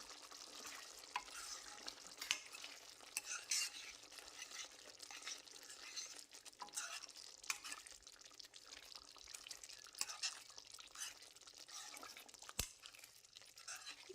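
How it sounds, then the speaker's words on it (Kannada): Fried eggs cook in an egg gravy for a dhaba-style curry, with a faint, continuous bubbling simmer and scattered soft clicks and scrapes of stirring heard close up, no voices. "ಗ್ರೇವಿಯಲ್ಲಿ ಮೊಟ್ಟೆನ ಬೇಯಿಸ್ಕೋಬೇಕು ಒಂದು 5 ನಿಮಿಷದ ಕಾಲ."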